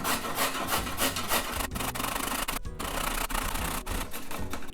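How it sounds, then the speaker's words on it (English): Daikon radish grated by hand on a grater in a home kitchen, a fast rhythmic rasping scrape repeated over and over, close and steady with short pauses between strokes. "I'm just gonna be lazy and use this grater."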